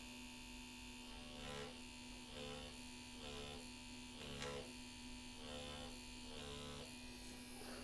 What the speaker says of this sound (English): I need to give my needle enough time to make its rounds in order for it to deposit ink in a solid, clean, and consistent saturated manner